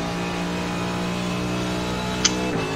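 Simulated Mercedes GT3 race car engine in iRacing at the Nurburgring, a steady mechanical hum holding near constant pitch, loud and even, with a brief click late on.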